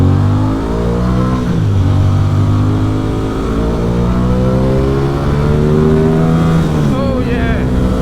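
An Aprilia Tuono 660 motorcycle engine gets a few throttle blips, its loud, rising and falling rev tone running throughout, with harmonics sweeping up and down as the engine briefly climbs and settles.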